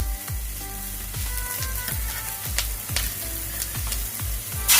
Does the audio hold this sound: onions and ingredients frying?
yes